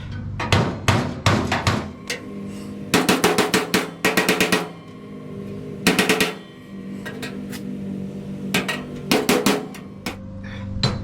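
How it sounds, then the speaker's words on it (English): Repeated sharp metallic hammer blows ring out in quick bursts of several strikes, separated by short pauses, loud and close. "Grab our all-purpose hammer."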